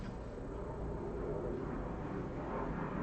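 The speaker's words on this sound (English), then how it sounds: "Yeah, you can hear the airplanes." Airplanes fly overhead, heard as a steady, broad low rumble that holds evenly for a few seconds in the background, with no talk.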